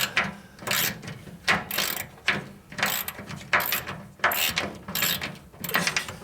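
A ratchet wrench clicks in quick, rhythmic bursts, about ten strokes close by, as bolts are worked loose from an air tank.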